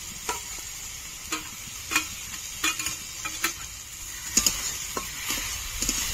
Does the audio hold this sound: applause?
no